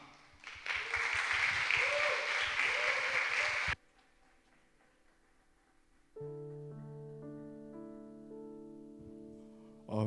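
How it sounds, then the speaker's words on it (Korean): A church youth congregation claps to welcome a speaker to the front, a full burst of applause lasting a few seconds that stops abruptly, followed by quiet and then sustained keyboard or organ chords. "류아 형제 올라오실 때 저희 박수로 격려하도록 하겠습니다"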